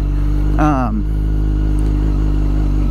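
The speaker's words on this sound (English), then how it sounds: "I'll have to address the RPM just kind of running away. You guys heard that." A Yamaha FZ1 motorcycle engine on its first ride, its RPM hanging high and running away, holding a steady, close, droning hum throughout, with a brief voice sound early on.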